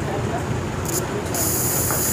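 A motorcycle fuel injector on a Hero HF Deluxe BS6, powered from a DC battery, sprays while a button is held: a steady broadband hiss that swells partway through and holds, with a voice speaking over it.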